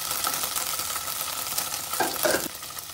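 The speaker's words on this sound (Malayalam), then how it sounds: "ചൂടായ നെയ്യിലോട്ട് നമുക്ക് ഫെറ്റ ചീസ് മാറ്റാം. ഇതിനെ ചെറുതായൊന്ന് ഫ്രൈ ചെയ്തെടുക്കുകയാണ് ചെയ്യുന്നത്." Feta cheese fries in hot ghee in a pan with a steady, close sizzle and crackle. A brighter burst of spattering comes near the end, and no one speaks.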